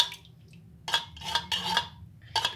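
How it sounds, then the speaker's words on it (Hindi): A spoon clinks and scrapes against a bowl while mixing sugared milk dessert with cream and Jam-e-Shirin syrup, several short close bursts separated by brief pauses. "इसको अब हम अच्छे से मिक्स कर देते हैं"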